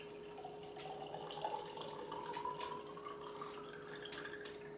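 Vinegar pours out of a container in a home kitchen as a faint, quiet trickle of liquid with soft drips, steady for about five seconds.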